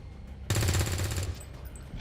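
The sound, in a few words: gunfire from the video game XCOM 2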